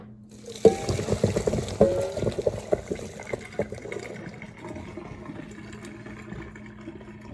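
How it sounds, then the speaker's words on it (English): Scalding boiling water poured from close by onto a frozen dairy dessert, a splashing liquid pour that starts abruptly, gurgles and spatters for a few seconds, then tapers into faint trickles and drips. "So we take the boiling, scalding water and pour it on the frozen dairy dessert."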